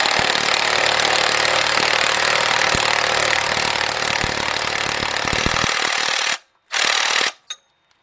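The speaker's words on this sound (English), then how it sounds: "So let's switch on 18 millimeter. And get that bolt tightened up." Ratchet or wrench work on an 18 mm bolt on a 2005 Cadillac CTS 3.6 engine, a loud continuous grinding, rasping stretch of about six seconds, then a short gap, another burst and a brief click.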